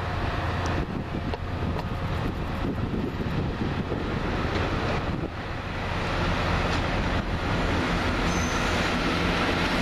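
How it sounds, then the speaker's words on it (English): A Chiltern Railways train, unit 165037 on a service to High Wycombe, at London Marylebone station, a steady loud rumble of engine and wheels with wind buffeting across the microphone, no talk. "Over on the far side, that'll be the 1802 Chiltern Railway service to High Wycombe"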